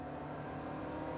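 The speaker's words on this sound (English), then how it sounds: "There's a fair bit of period turbo lag," A car engine in The Grand Tour Game drones and whirs steadily through period turbo lag, building power without sharp changes, loud and close.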